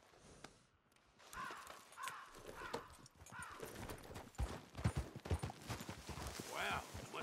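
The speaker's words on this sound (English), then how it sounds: "Cover some ground on a horse like that." Horse hooves clip-clop in a steady walking rhythm in Red Dead Redemption 2, close and moderately loud, with someone talking over them, caws sounding in the background and a brief snort near the end.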